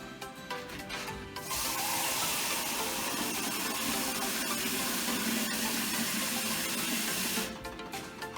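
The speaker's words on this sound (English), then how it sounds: "I'm adding 2 cups of chicken broth to 2 cups of water." Chicken broth poured into a cooking pot, a steady close splashing stream lasting several seconds before stopping, with no talking.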